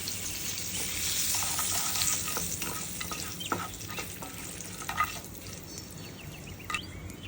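Asafoetida and curry leaves sizzle in a pan while being stirred, a steady close frying hiss broken by irregular scraping and clicking strokes of the spoon, with no talking.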